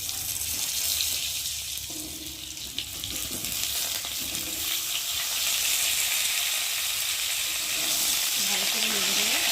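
Cut potatoes frying in hot oil with bay leaf and cumin, giving a continuous loud sizzle and crackle from a nearby pan that holds steady throughout.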